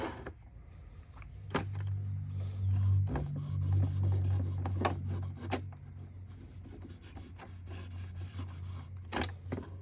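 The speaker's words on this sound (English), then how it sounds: "I went out and got myself a scraping blade, and it's coming off very easily." A scraping blade works residue off a Denecke TS-C smart slate with a series of short, dry rasping strokes close up, giving a rough rubbing texture with sharp ticks between the passes.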